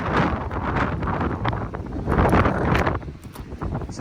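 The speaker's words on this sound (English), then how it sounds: "trying to get a good gust of wind here, see if I can get it to invert." Wind gusting against a compact umbrella outdoors, a continuous rough buffeting roar with flapping fabric and microphone wind rumble that swells and eases, close to the mic with no voices.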